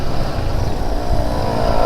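Motorcycle carrying a passenger on a hot, sunny ride, its engine droning loudly and steadily with wind rumble throughout and no voices over it.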